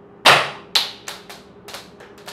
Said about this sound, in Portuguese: Deixa eu fazer um disparo aqui.